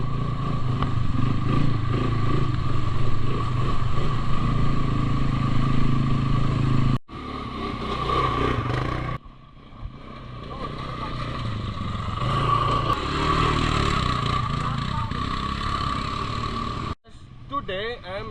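A quad bike (ATV) engine revs steadily and loudly while being ridden on a Bali ATV track, a continuous droning roar broken by a couple of abrupt cuts, with shouting voices underneath.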